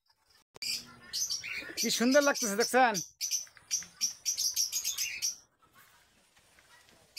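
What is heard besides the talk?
birds chirping outdoors in Bangladesh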